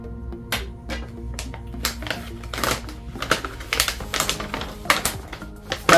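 Knife slicing open a textured red cardboard fragrance box, a run of close, irregular sharp ticks, scrapes and crackles with a few louder snaps toward the end, no talking.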